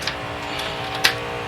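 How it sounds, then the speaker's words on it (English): A sharp little click from a pin popping up on a sim racing steering wheel during a Daytona superspeedway race, one distinct tick standing out over steady background noise, with a fainter click earlier. "That sound was one of the pins on my steering wheel just popping up"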